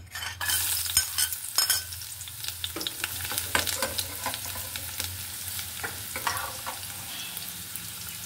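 Chopped onions, with garlic and a split green chilli, frying in a pan, a close crackling sizzle punctuated by repeated scraping stirs and utensil knocks, with no talking.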